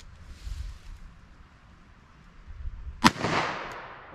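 A single gunshot fires a lead round-nose bullet at a low angle toward water, a sharp loud crack followed by a rushing decaying tail, with quiet outdoor ambience and wind rumble before it.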